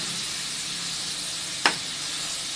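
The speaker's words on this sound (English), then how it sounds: "And then I will just let the pork cook" Marinated pork steak cooking in a pan, a steady close hiss and sizzle throughout with one brief sharp crackle near the middle and no talking.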